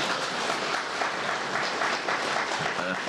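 Audience applause at a Buddhist Diamond Sutra teaching gathering, a dense, steady clapping from a crowd lasting a few seconds, even and fairly loud throughout.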